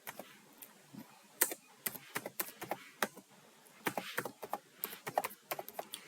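Keys clatter on a computer keyboard in irregular bursts of quick taps, close and crisp, with short pauses between runs of strokes.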